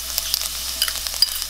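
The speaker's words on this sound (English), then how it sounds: "I'm gonna add our garlic, chopped garlic" Chopped garlic sizzles in hot oil in a pan, a brief crackling fry with scattered sharp pops and stirring scrapes, close and fairly loud with no voices.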